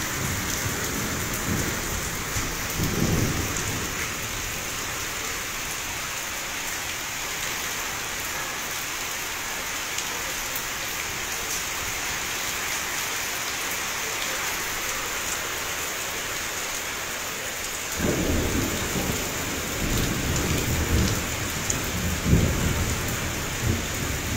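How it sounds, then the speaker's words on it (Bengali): Rain pours during the year's first thunderstorm with light hail, a constant loud hiss of drops on surfaces. Deep thunder rumbles roll in near the start and again in the latter part. "গুটি গুটি শিলাবৃষ্টি হয়েছে"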